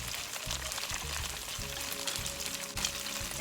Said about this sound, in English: And wait for my shrimp to finish cooking.